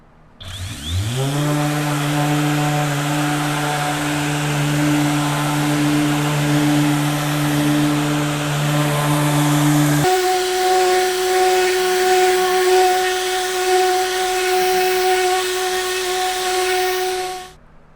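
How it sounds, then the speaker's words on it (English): Power sander running on drywall at a reduced speed setting during a California patch hole repair, spinning up and holding a loud steady whine close by for about sixteen seconds, then shifting pitch midway and cutting off at the end. "So I'm gonna start with the sander on the surface, hit the trigger."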